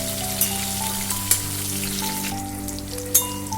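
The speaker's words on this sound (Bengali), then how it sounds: "সমস্ত ড্রাই ফ্রুটগুলো আমি ভেজে নেব, হালকা করে আমি ভেজে নেব।" Dry fruits, raisins among them, fry lightly in a pan for khoa kheer semolina, giving a steady soft sizzle with occasional small pops, close and moderately quiet.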